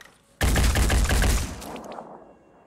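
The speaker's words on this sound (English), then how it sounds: "And then you're gonna fire your weapon" A weapon fires a rapid burst of shots in the video game Phoenix Point, loud and sharp, sounding close, before fading into a trailing echo.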